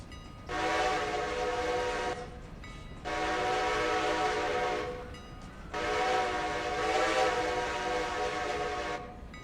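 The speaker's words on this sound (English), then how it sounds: "Little bit of train brake just to bring it to a stop." A train in the railway game Railroader runs along, with three long, loud horn or whistle blasts separated by short pauses over a faint background rumble.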